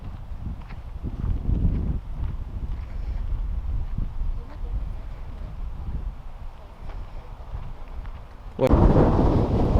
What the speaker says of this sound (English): Today is really windy.